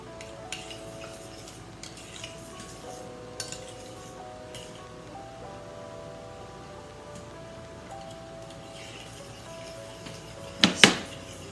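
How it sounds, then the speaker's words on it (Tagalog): Muffin batter for banana oatmeal muffin cups being stirred with a utensil in a bowl: faint, steady scraping and light clinks, ending in a couple of sharper clinks against the bowl near the end. "So, mix lang natin siya."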